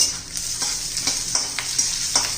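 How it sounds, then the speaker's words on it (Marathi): Chopped onion, garlic and ginger sizzle steadily in a hot pan for a spicy masala bitter gourd dish, with soft scraping strokes of stirring every half second or so, close up and with no talking. "थोडं चांगलं तांबूस होईपर्यंत थोडंसं असं काढून घेऊया"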